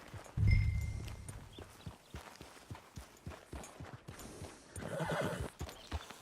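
In the video game Red Dead Redemption 2, a horse whinnies loudly, then hooves clop along in a steady walking rhythm, with another snort and neigh near the end.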